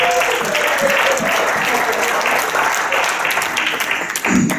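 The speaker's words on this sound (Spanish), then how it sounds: "Un aplauso fuerte a Jesús." A church congregation claps loudly in a sustained burst of applause during a service, dense hand-claps filling the room before fading at the end as a voice begins.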